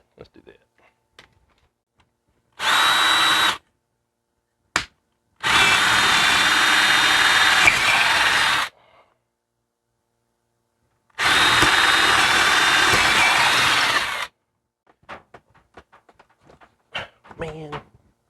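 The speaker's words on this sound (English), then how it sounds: "I'm gonna do the old drill a bunch of holes trick and then connect them" A power drill bores a series of holes through a wall for a mini split air conditioner install, running in three loud sustained bursts, one short and two long, with quiet gaps, a brief knock and faint scattered noises after.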